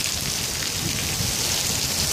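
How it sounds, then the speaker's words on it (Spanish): A rainstorm in the city of Santiago de Cali gives a steady, dense hiss of heavy rain with a faint low rumble underneath, continuous and even with no voices. "la borrasca"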